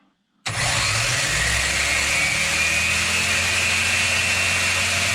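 A Rlaarlo RC car with a Surpass 60A ESC screams at full throttle after a brief silence, its motor whine rising into a loud, steady high-pitched drone that holds for several seconds.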